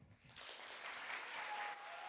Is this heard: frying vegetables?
no